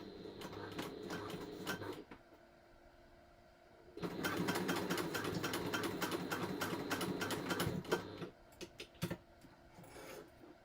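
A sewing machine runs in bursts of fast, even stitching while sewing a raw-edge zipper pouch at a 3 stitch length, with short pauses between runs and a longer, steadier stretch in the middle.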